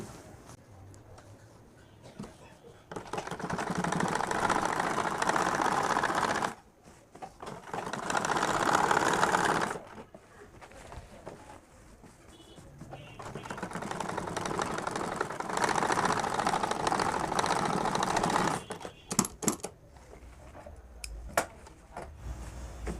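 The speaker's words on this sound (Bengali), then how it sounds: "এখন এই যে এই কাপড়টাও আমরা সেলাই করে আটকে দিব দেখেন" A sewing machine stitches fabric onto the round neckline of a jubba-style panjabi, running in two long steady bursts separated by short pauses. The motor hum is close and moderately loud, with no voices.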